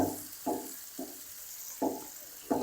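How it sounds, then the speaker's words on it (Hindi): Coarsely chopped onion frying in a pan for a potato sabzi, a steady soft sizzle broken by several louder bursts of stirring at regular intervals, close by with no talking. "प्याज हमारा फ्राई होता रहेगा"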